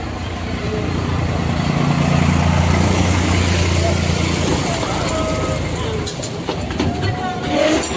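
A ride-on toy train rolls through Cubbon Park in Bangalore with a steady low rumble and clatter, nearby voices talking over it and a fuller jumble of sounds near the end.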